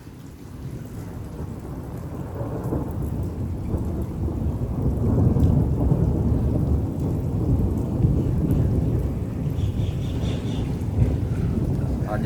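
A long, deep rolling rumble of thunder swells over steady rain in a Punjab village, loud and continuous with wind buffeting the microphone.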